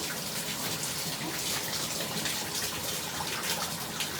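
Shower water rinsing curly hair, a continuous close spray and splash running steadily throughout.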